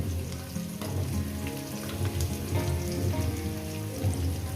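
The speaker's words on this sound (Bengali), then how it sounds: "লবণটাকে দিয়ে আমি এখানে ভাজবো প্রায় ভেজে নেব এটাকে মিডিয়াম গ্যাসে ভেজে নেব" Chopped onions sizzling with salt in a pan over a medium gas flame, a loud, continuous close crackle and hiss with occasional stirring scrapes, no voices.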